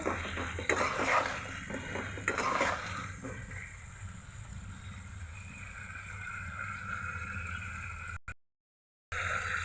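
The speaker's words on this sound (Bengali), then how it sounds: "আলু আর বেগুনটা আমি নেড়ে দিচ্ছি।" Potatoes and eggplant are stirred as they fry in a pan. Scraping strokes are louder at the start and then fade to a quiet, low sizzle, and there is a brief cut to silence near the end.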